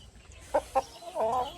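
A rooster gives a few soft, close clucks: two short separate notes followed by a longer drawn-out cluck, with no speech.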